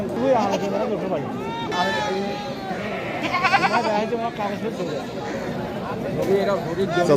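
Ram goats bleat repeatedly amid a busy background of people chattering, the wavering cries rising over the steady crowd noise.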